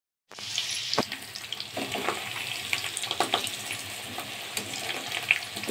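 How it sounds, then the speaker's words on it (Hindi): Potatoes for dum aloo fry in hot oil with a steady, close crackling sizzle, broken by a few sharper pops and light clinks. "जब तक आलू फ्राई हो रहा है"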